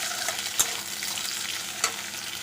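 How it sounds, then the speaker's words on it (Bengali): Onion frying in hot oil with small fried shrimp, being stirred in a pan; continuous close sizzling hiss with two sharp utensil scrapes or clinks, no voices. "পেঁয়াজটাকেও ভেজে নেব ভালো করে।"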